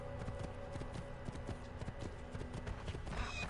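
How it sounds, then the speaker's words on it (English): A horse's hooves clip-clop in a steady rhythmic trot in the video game Assassin's Creed II, quiet and continuous, with no talking. "Took my horse out."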